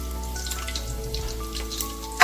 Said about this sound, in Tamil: நம்ம இப்போ வந்துட்டு பிரியாணி இலை, பட்டை, லவங்கம், அந்த கிராம்புலாம் இருக்குல்ல அதை சேர்த்துக்கலாம்